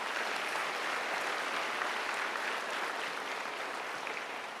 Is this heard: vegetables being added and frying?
no